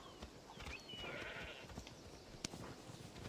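Goats bleating somewhere in the background in the video game Assassin's Creed Odyssey, faint and intermittent calls over quiet ambient game sound, with no talk.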